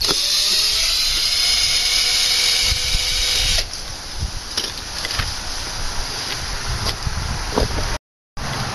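A battery-powered cordless drill running low on charge whines loudly and steadily while working to remove lawnmower wheels, then drops off to quieter clicks and short tool noises, followed by a brief gap.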